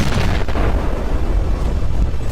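A loud, close explosion from a wartime rocket attack fills the moment, a heavy booming blast with rumbling, crackling debris noise that stays dense and powerful for the whole short burst.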